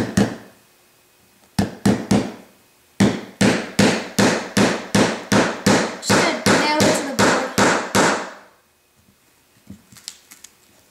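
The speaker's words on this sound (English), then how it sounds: "Try to nail it in there" Hammer blows on a nail being driven into an iPod, a few scattered hits then a quick steady run of sharp metallic strikes, close and loud, followed by faint rustling.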